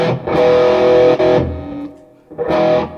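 Distorted electric guitar through a Marshall JVM410 amp on the OD1 green overdrive channel: two loud, sustained chords ring out and decay, then a pause and a final strummed chord, played alone with no talking.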